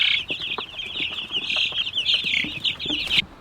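Chicks in a brooder on a homestead keep up a steady, high-pitched chorus of peeping and clucking close by, with small scratching and shuffling sounds beneath and no talking.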